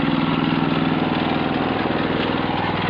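A branch shredder's engine runs close and loud with a steady, even drone and a faint rapid pulse throughout, with no voices.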